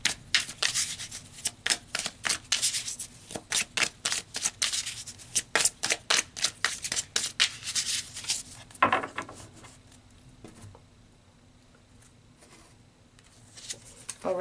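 Tarot cards are shuffled up close in a quick run of crisp, rhythmic riffling snaps. The shuffling then quiets into soft handling and a near-silent stretch before a few final card sounds.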